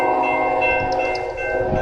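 An eastbound Norfolk Southern container train passes a grade crossing near Hobart, Indiana, a loud steady rumble with sustained tonal horn or bell ringing layered over it.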